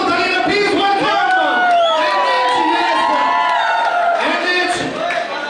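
A crowd cheers loudly at a Lakme fashion show ramp walk, with sustained whoops, whistles and shouts over a dense roar that holds steady throughout.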